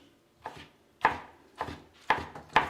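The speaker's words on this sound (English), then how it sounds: "And then for the peppers, we're just going to slice into long strips." A knife slices peppers into long strips on a cutting board. Five or six crisp, distinct chops land at an uneven rhythm, close and clear with nothing else around.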